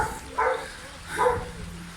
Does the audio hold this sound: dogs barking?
yes